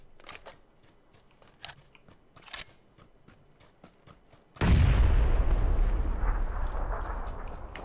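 A grenade explosion in the PUBG battle royale game goes off as one loud sudden boom with a long rumbling roar that follows. Scattered gunshot-like clicks and pops come before it.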